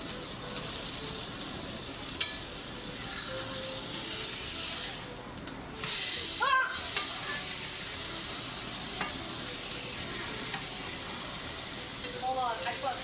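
Food searing and sizzling on a cooking surface in the video game Starfield, a continuous bright hiss throughout with brief dips and small pops, a voice occasionally heard over it.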